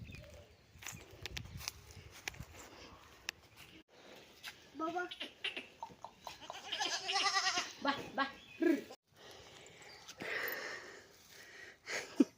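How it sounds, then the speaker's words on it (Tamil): A young goat on a village farm in Dharmapuri district bleats in a few short, wavering calls among quieter rustling and scattered noises, fairly close but not loud. "ஆட்டுக்குட்டியோட விளாட்றான்."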